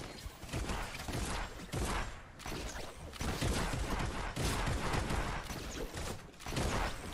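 Gunfire in Fortnite comes as dense, rapid bursts of shots with loud, near and continuous crackling and brief dips between volleys, and no clear talking.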